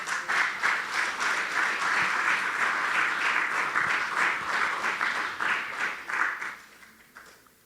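A church congregation claps in sustained, dense applause during a sermon, steady and fairly loud for several seconds before tapering off at the end.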